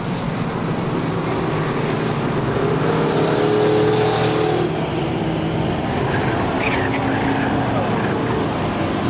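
Strictly Stock cars race at Star Speedway as the field gets back underway after a caution, their engines a steady, dense roar from several cars at once, with no talk.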